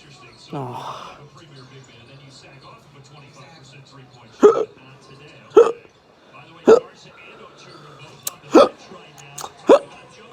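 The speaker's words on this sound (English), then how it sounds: "Your hiccups are getting faster." Five sharp, loud hiccups come at irregular intervals, each a short abrupt gulp, following an early breathy vocal sound with quiet background between.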